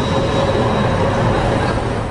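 A tram rolling through Potsdam streets, a steady loud rumble of wheels and motor with a faint high whine riding over it, continuous and close.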